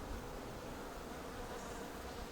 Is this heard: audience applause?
no